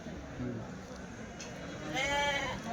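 A sheep bleats clearly near the end, with faint bleating earlier, over a steady background murmur at a sheep and goat market in Kadiri.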